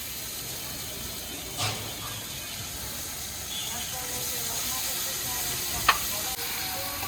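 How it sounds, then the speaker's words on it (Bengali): Sour yogurt going into a pan of sizzling turmeric spice mix, giving a steady broadband frying hiss with a few brief clinks and stirring scrapes, fairly close. "এবারে দিয়ে দিচ্ছি টক দই।"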